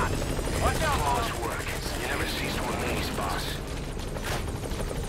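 A helicopter in the video game Metal Gear Solid 5 keeps up a continuous rhythmic rotor thudding over mechanical game noise, with no talking in this stretch.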